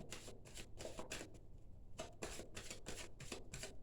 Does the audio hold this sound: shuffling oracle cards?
yes